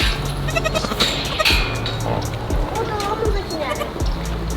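A baby goat bleats several times in short, nasal cries close by, with a person talking over and between the calls.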